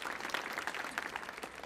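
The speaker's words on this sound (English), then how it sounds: "So let's one more round of applause" An audience applauds a duet at the Millennium Stage, producing a dense, steady patter of many hands clapping at moderate loudness for the whole stretch, with no voices standing out.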